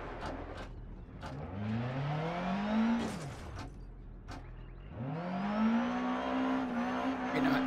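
Rear-wheel drive rally car in DiRT Rally revving hard through two rising acceleration sweeps, engine pitch climbing, dropping at a gear change, then climbing again, loud and close.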